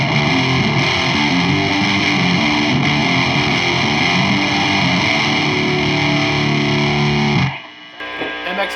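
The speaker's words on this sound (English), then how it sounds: "Boss Turbo Distortion." Electric guitar through a Boss Turbo Distortion pedal into a Randall Diavlo RD1H amp plays a thick, heavily distorted sustained riff for about seven seconds, loud and saturated, then cuts off abruptly, leaving a brief quieter tail.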